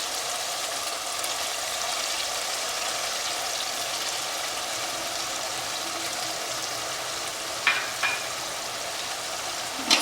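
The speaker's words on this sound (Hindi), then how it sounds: "जितना मसाले को हम भुनेंगे उतना ही बढ़िया हमारा आइटम तैयार होगा।" Masala with yogurt sizzles and fries in a pan for chicken biryani, a steady close crackling hiss with a few sharp clinks of a utensil near the end.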